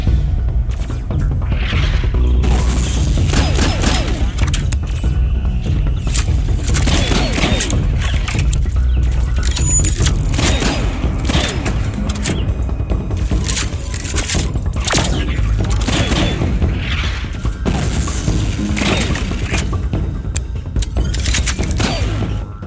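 Gunfire in a tower defense video game comes as a dense, continuous barrage of loud cracks and booms, with mechanical clatter and thumps underneath.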